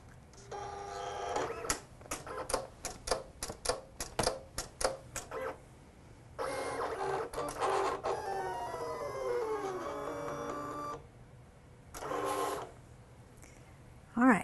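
An electronic craft cutting machine drags its blade, set to 5, through material, giving a run of sharp clicks and motor bursts, then sustained whirring and sliding carriage sounds with brief pauses between passes.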